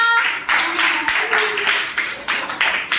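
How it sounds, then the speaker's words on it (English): Children clapping together in a classroom to celebrate an activity winner, a run of short, fairly loud claps in a loose repeating rhythm with a voice speaking over them at the start. "Clap for Lavanya."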